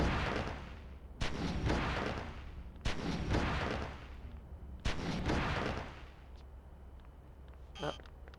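Gunfire from the video game Oni comes in three heavy, booming bursts spaced a second or two apart, each trailing off into rumble, with a faint sharper pop near the end.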